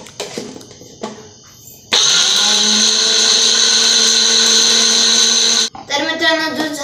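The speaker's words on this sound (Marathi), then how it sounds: "आता लावूया आणि ज्यूस करूया" An electric juicer runs on pomegranate seeds with a loud, steady high-pitched motor whine for about four seconds, then stops abruptly. A person talks before and after it runs.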